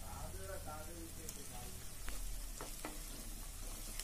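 Two cloves and a cardamom pod go into hot oil for a chicken fry, giving a faint, steady sizzle with a few soft clicks of spices landing in the pan, close by.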